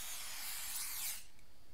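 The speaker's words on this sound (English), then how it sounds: "Is this mouse killing spray?" Mouse deterrent spray hissing from a can in a convenience store video game, one continuous close aerosol burst that cuts off sharply near the end.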